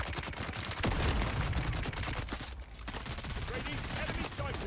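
SMG gunfire in a video game rattles in fast continuous bursts, loud and dense, with an indistinct voice underneath.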